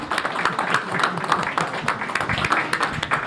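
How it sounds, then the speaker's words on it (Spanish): Audience applause at an education event on Mexico after its elections, greeting visitors who came from Mexico: a dense, steady patter of many hands clapping that holds at moderate loudness for the whole stretch. "Pido un aplauso para nuestros compañeros que vinieron desde México."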